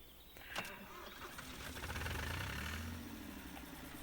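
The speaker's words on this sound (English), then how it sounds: "It's such a cool sounding little tractor." A small tractor engine in Farming Simulator 25 rumbles steadily while plowing a field, its low idle swelling into a heavier drone midway before easing off.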